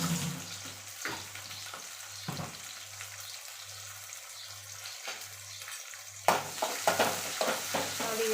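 Chopped tomato and salt frying in a pan for chicken sukka, with a steady low sizzle under intermittent scraping stirs that grow louder and busier toward the end; a low hum runs beneath.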